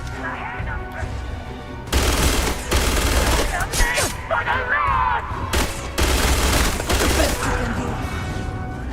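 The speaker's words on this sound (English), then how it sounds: "I really wish I could get Andreja to stop jumping in front of me as I fire" Rapid bursts of weapon fire in the sci-fi video game Starfield, loud and dense, in several volleys with brief pauses between them and a player's voice faintly mixed in.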